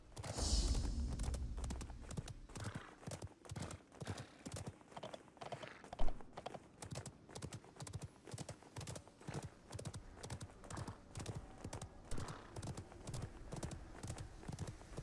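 A horse gallops in the video game Realm Royale, with rapid, evenly spaced hoofbeats pounding steadily throughout and one heavier thud partway through, fairly quiet overall.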